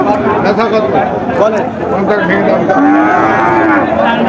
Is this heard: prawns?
no